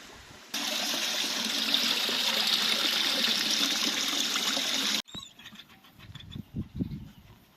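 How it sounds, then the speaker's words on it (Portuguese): Water flowing in the historic Fonte Missioneira fountain at the São Miguel Arcanjo ruins in São Miguel das Missões, a steady close splashing rush that cuts off abruptly, followed by quiet outdoor background with faint low sounds. "E essa aqui atrás é a Fonte Missioneira."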